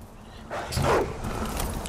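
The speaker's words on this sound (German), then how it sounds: "Noch so ein doofer Köter." A dog barks in the video game Far Cry 4: one short bark rises out of steady game ambience, with no talking.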